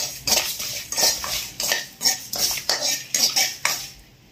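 Sesame seeds are roasted in a pan for a nalleru pickle, with a spoon scraping and stirring in repeated, rhythmic strokes, loud and close, metal against metal, and no talk.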